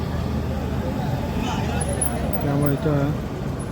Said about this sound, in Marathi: गाडीचा आवाज वगैरे आहे